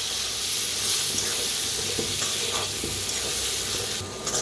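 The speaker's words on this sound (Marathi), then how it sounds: "आता बटाटो भाजून घेतलेले आहेत त्याच्यात आता ह्याच्यात वांगी कापून घेतलेली त्याला पण मिक्स करून भाजूया" Chopped eggplant fries with roasted potatoes in a pan, giving a steady, close, hissing sizzle broken by a few stirring scrapes, with no talking.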